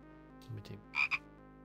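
Two short croaks from a frog in the point-and-click game Simon the Sorcerer, a low rasp followed by a brighter double croak, sounding alone against a faint background hum.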